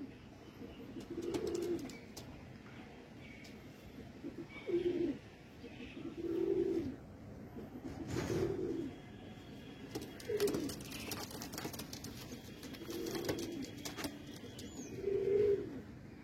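Patta pigeons coo in repeated low, soft bursts roughly every two seconds, with brief wing flutters and rustling scattered between them at fairly close range.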